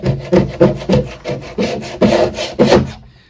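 Wallpaper scraper rasping old paint off a wooden basement storage door in repeated, even strokes, about eight close, loud scrapes before a sudden stop.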